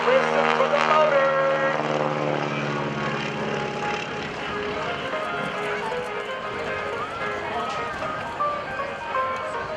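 A stock Stearman biplane's radial engine at an airshow, droning loudly and steadily through a super slow roll, its pitch shifting early and then settling into a rough, sustained roar with crowd noise underneath.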